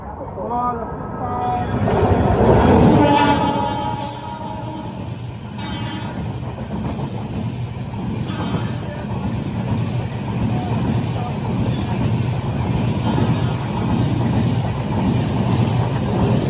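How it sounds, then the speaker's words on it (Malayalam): Porbandar–Thiruvananthapuram North Express passing on the Konkan Railway in monsoon, a loud sustained rumble with wind buffeting that swells early and holds steady, with a voice talking over it. "പോർബന്ദർ തിരുവനന്തപുരം നോർത്ത് എക്സ്പ്രസ് ഇതാ വരികയാണ്."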